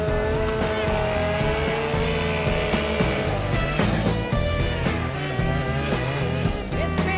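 A chainsaw cutting through logs, a loud, close, sustained engine whine that rises and falls in pitch as the chain bites into the wood, with no voice over it.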